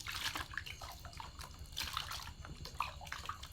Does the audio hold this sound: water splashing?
yes